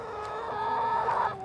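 Heritage-breed backyard chickens cluck and a rooster crows in a brief, fairly close outburst over a steady background din.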